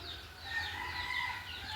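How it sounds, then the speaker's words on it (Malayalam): Native chickens, a rooster and hens, cluck and call softly in the background, with a few higher chirps over a steady low hum, no talking. "ഇത് നല്ല ഭംഗിയുള്ള കോഴികളാണ്"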